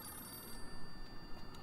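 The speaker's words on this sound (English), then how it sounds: "What am I supposed to do with a ringing phone?" A telephone rings steadily with a bright electronic trill, fairly faint and alone, with no voices over it.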